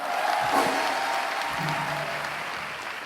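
A church congregation applauds and cheers together, a sustained wash of clapping with a few voices rising over it, moderately loud and fading slightly.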